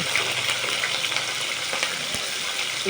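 Food fries in hot oil with a steady, close sizzle, and scattered pops and crackles sound throughout.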